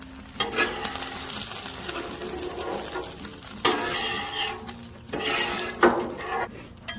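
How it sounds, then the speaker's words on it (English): A spatula pushes canned corn across a hot Blackstone griddle, with scraping strokes and clinks over a continuous sizzle, loud and close, in bursts with brief pauses and no talking. "And now I'm going to slide the corn over."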